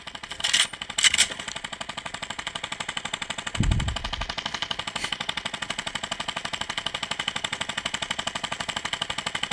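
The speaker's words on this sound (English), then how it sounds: "it's a minigun fire" Minigun fire in the Blue Lynx video game, a long steady stream of very rapid, evenly spaced shots at moderate loudness, interrupted early by a few louder thumps and a low boom.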